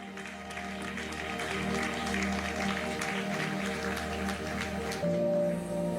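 A church congregation claps continuously in a dense patter of applause over a sustained musical drone, steady and fairly loud throughout.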